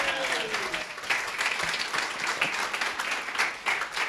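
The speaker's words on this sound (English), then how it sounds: "Huge round of applause for our phenomenal keynote speakers." A crowd applauds keynote speakers at a tech event at Bletchley Park, sustained clapping heard at a distance and fairly quiet, with occasional louder bursts.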